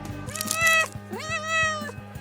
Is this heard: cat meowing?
yes